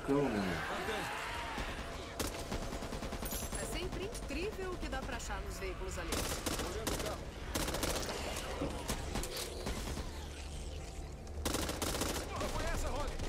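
Loud bursts of gunfire and rapid automatic shots from the zombie shooter video game Back 4 Blood, repeated in clusters with someone talking over them.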